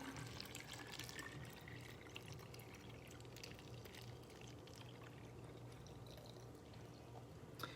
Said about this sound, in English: So I'm just going to pour in the distilled water.